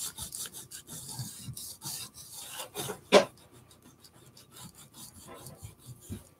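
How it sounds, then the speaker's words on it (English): Sandpaper rubbed by hand against an accordion part during a repair, heard as close, steady rasping strokes in an uneven rhythm, with one sharper scrape partway through. "I keep wanting clean sandpaper here, and then forgetting that I can turn the sandpaper rather than the tool."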